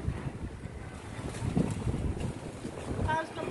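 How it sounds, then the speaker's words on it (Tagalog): Strong typhoon wind gusting outdoors amid fallen banana plants, a steady roaring rush with buffeting on the microphone that rises and falls in waves, with faint voices in the background. "Ang lakas ng hangin."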